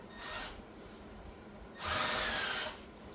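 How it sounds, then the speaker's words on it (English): Two short bursts of a power drill boring holes into an RC car chassis, each lasting under a second, close and fairly quiet, separated by a pause with a low background hum. "We're going to drill very carefully"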